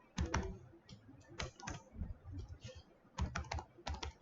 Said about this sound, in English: then you have to type return